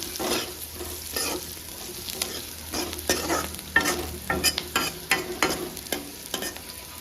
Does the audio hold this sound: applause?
no